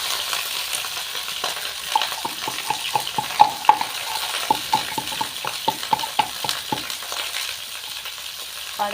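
Rice, potato and cauliflower are stir-fried in a pan, giving a steady sizzle with repeated scraping strokes of a spoon at a fairly even rhythm, close and alone without talk.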